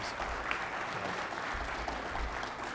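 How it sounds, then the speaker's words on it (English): A press conference crowd gives a steady round of applause for a football team's head coach and star players, dense clapping holding at an even level from start to finish. "let's have a round of applause for them to kick things off"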